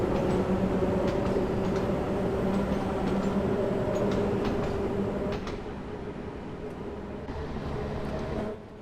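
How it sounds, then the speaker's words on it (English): A London Underground train on the Bakerloo Line passes in the video game Train Sim World 2, a loud, steady rolling rumble with faint clacking and a tonal hum that eases slightly toward the end, with no talk. "Quick train by"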